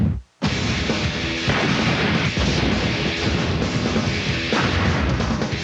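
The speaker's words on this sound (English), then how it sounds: "So for kicks, we're just going to blow things up with one of the most dangerous explosives in all the world." Tannerite explosive sets off a sudden loud blast after a moment of silence, followed by several seconds of dense, roaring noise.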